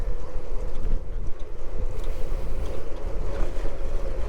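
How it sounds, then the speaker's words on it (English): Cold wind blowing across the mic during an outdoor bike ride: a steady, dense rumble with gusty buffeting that stays loud and continuous, with no voices. "It's a little windy out today."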